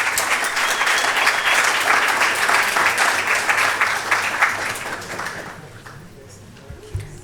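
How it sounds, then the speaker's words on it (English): Conference audience at an opening ceremony applauds the keynote speaker, dense clapping from a large hall that stays strong for about five seconds and then fades to quiet room sound with a stray bump near the end. "Let us meet her with a round of applause."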